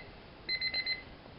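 Mini Paddington Bear alarm clock with decorative bells sounding an electronic beep alarm: a quick burst of four sharp, high beeps, fairly loud and close, with no talking.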